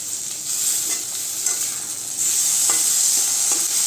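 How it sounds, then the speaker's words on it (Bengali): Carrots and tomatoes fry in a pan with a steady bright sizzle, while a utensil stirs with scattered scraping clicks; the frying grows slightly louder partway through. "গাজর অল্প ভাজা হয়ে গেলে এর মধ্যে আমি দিয়ে দিচ্ছি টমেটো।"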